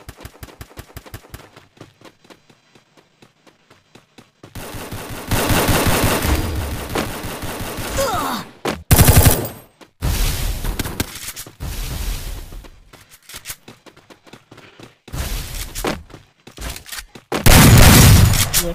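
Shotgun blasts ring out in Free Fire Max, in loud irregular bursts with long gaps of quiet between them.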